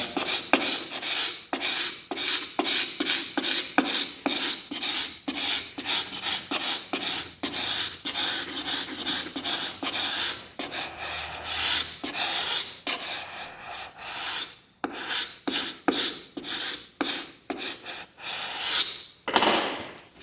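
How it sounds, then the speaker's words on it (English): Scraper rasping dried Freeman Tuf-Carv wood filler off a hardwood floor, close and loud, in a rapid rhythmic series of scraping strokes with brief pauses between bursts. "Take your scraper, kind of scrape it like cheese."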